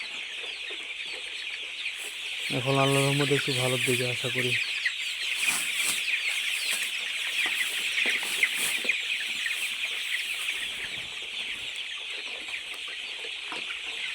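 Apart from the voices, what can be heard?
chickens clucking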